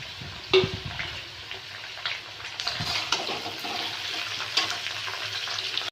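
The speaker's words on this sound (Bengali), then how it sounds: "এবার আমি পেঁয়াজ আর বাগদাগুলো দিয়ে দিচ্ছি, একসাথে ভেজে নেব" Prawns and onions hit a hot pan and fry with a steady hiss and crackle, following a sharp clatter as they go in, continuing alone without talk.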